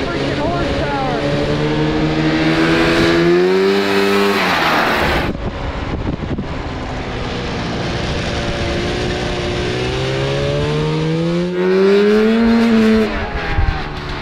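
A 125 horsepower go kart accelerates hard on a race track, its engine note climbing loud and close through repeated rising revs, with brief drops between pulls.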